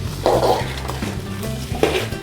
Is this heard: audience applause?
no